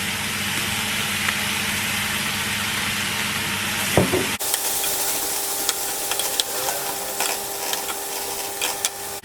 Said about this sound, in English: Cook your onions until they are tender.